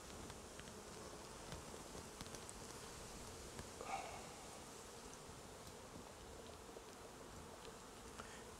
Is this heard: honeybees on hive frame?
yes